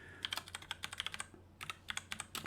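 Fingers tap quickly on a computer keyboard, a close run of crisp clicks that pauses briefly and then resumes in another short burst.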